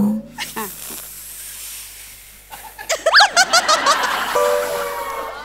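A man imitates a creaking door with his voice, drawn-out squeaky rising and falling tones followed by breathy hissing, performed on a comedy stage, with brief talk before it.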